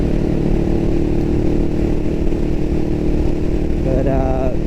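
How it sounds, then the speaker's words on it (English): A Honda Rebel 500 motorcycle ridden along, its engine humming steadily under wind noise with a brief rising note near the end, while a rider talks over it. "I ride the Honda Rebel 500"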